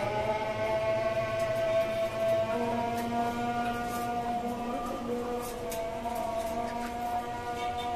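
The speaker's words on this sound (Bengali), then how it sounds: "মাগরিবের আজান দিচ্ছে" Maghrib call to prayer drifting in from afar, a sustained wavering tone held steadily across the whole stretch with no talk over it.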